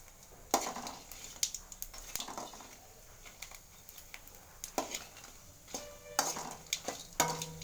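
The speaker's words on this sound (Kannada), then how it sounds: "ಸ್ವಲ್ಪ ಬ್ಯಾಡಿಗೆ ಮೆಣಸಿನ್ಕಾಯಿ ಹಾಕಿ ನೀಟಾಗಿ ನೀರಾಗಿ ಬಾಡಿಸ್ಕೊಳ್ಳೋಣ" Byadagi chillies sauté in oil in a pan: a soft, faint sizzle under irregular clinks and scrapes of a spoon stirring against the pan, with no voices.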